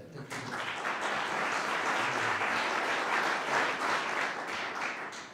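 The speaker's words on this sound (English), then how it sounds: "I would like to give you a round of applause for that." Audience applause fills a housing summit, a dense, even wash of many hands clapping at moderate distance that holds steady for several seconds before tapering slightly at the end.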